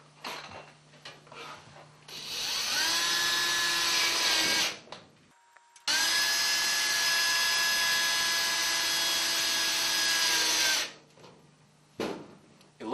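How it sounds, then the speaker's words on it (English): Power drill driving screws into sheet-metal air cleaner flaps: two long, loud whirring bursts of a few seconds each, separated by a short pause, with faint handling noises before and after. "I can just go ahead and tighten it up by putting some screws in the overhanging 1-inch flaps"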